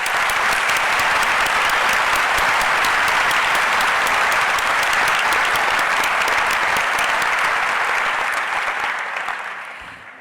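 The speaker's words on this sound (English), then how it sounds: "So please help me to honor this class with a round of applause" Sustained, dense applause from a large audience at a dental school commencement ceremony, loud and steady for about nine seconds before tapering off at the end.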